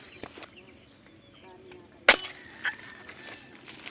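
A single sharp, close crack from an airgun fired while fishing for tilapia stands out once, with a fainter knock soon after and quiet outdoor background around it.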